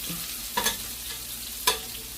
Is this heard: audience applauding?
no